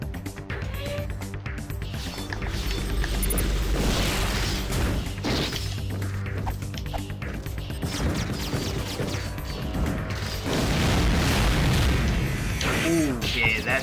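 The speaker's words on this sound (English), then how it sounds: "he fired some homing missiles and they just came around on me" Heavy booming impacts and crashes from homing missile explosions hitting the player's ship in Rengoku 2, rolling through dense game music and effects, with several loud blasts in a row.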